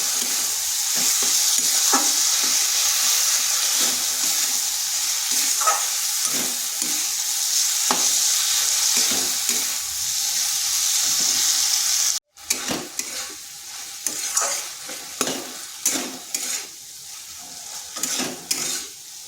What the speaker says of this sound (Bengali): এরপর এটাকে বেশ কিছুক্ষণ কষিয়ে নিতে হবে।